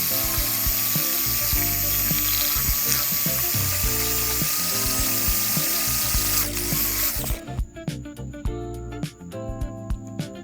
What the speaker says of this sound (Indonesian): Setelah itu saya mengaduk menggunakan bor listrik.